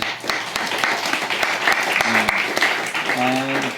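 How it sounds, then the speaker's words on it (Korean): A church congregation claps to welcome a new member during a Sunday service, a sustained round of applause with a few murmured voices and faint tones underneath. "우리 박수 환영하겠습니다."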